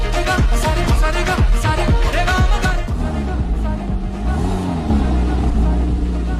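A car engine revs in a driving video game, loud and continuous, with rising and falling pitch sweeps over a steady low rumble and a voice speaking over it.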